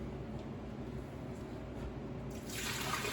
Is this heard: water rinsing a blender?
yes